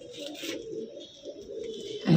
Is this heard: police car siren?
no